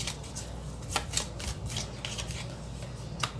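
A deck of tarot cards is shuffled close up, giving a run of soft riffling and sliding bursts with a few sharper snaps, steady for several seconds with no voices.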